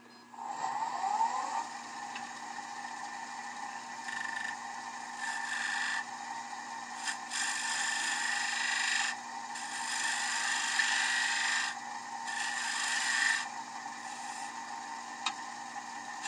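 A lathe gouge cuts a wooden bowl in practice turning, giving a steady scraping, hissing cut with repeated bursts that rise and fall over a constant motor hum, fairly close and with no talk.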